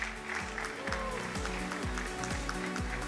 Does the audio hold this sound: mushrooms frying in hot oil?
no